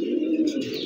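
A domestic pigeon gives a short, close, soft throaty coo, with a faint chirp-like tail at the end.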